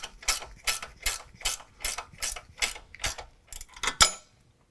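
Ratchet wrench with an 18mm socket snugging a nut and bolt on a 2018 Jeep JL 2-door during a Superlift lift kit install: about ten quick, even rasping clicks in steady rhythm, close and clear, then a sharp final click and silence.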